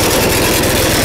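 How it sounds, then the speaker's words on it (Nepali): A small mini thresher engine runs steadily just after being rope-started, a loud, close, continuous idling rumble with no talk over it. "हाम्रो इन्जिन चाहिँ स्टार्ट भइसकेको छ. तपाईँहरूले सुनिरहनु भएको छ यसको आवाज."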